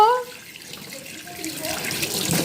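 Tap water runs into a sink basin while fresh rohu fish are washed, a steady rushing stream that swells louder toward the end.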